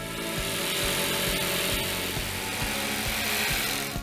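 A power saw cuts steadily through an okoume plywood board, a loud continuous buzzing whine with a faint rhythmic low pulse running through it for several seconds.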